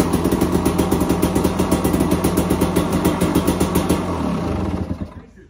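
Older KTM 300 two-stroke dirt bike engine running after firing on electric start, a steady pulsing putter up close that holds for about four seconds, then winds down and cuts out.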